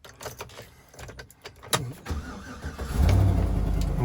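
A pickup truck that has sat unused for a week cranks over with clicks and rattles, then the engine catches and settles into a loud, steady rumble close by.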